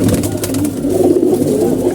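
Pigeons coo nearby in a loft, a low continuous burbling murmur of several birds filling the whole moment without talk.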